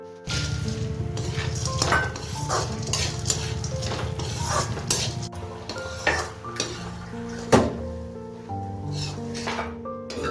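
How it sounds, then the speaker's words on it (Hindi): Cashews fry in a kadhai in the oil left from frying almonds, giving a steady sizzle broken by repeated scraping and clinking stirs of a metal spoon against the pan, recorded close with no talking. "अब इसी में मैं काजू को भी तल लूँगी"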